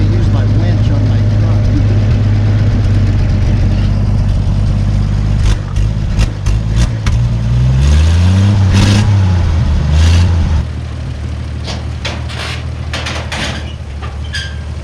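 An old truck engine runs steadily at idle, a loud, close, continuous low rumble with a brief rise in revs midway before settling lower, while people talk nearby.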